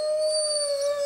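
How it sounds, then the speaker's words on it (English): Wolves howl in one long, steady, clear note, with no talk. "there's a difference between wolves howling"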